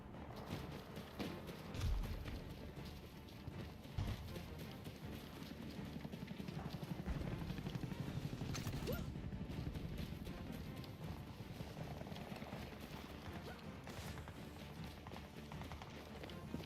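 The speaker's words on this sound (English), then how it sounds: "Why do I hear footsteps?" Footsteps in the shooter game Battlefield 2042, a steady run of soft rhythmic steps under a dense bed of in-game ambience and distant combat noise, fairly faint and continuous throughout.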